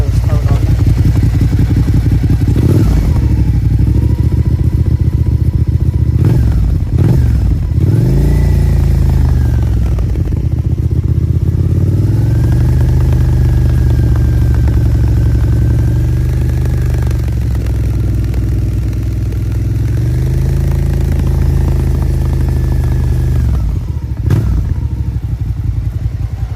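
A Suzuki SFV Gladius motorcycle engine idles steadily and close by, with a slight knock suspected from the exhaust, and the revs rise and fall a few times through a continuous, loud running note.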